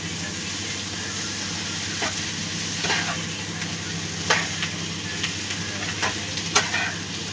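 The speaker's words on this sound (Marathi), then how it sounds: "छान असे आपले सगळे मसाले तेलामध्ये आपण परतून घेऊया" Masala sizzling in hot oil for a prawn gravy, a steady frying hiss with spatula scrapes and taps at irregular intervals, close and moderately loud.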